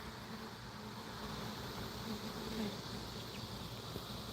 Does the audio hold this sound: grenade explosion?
no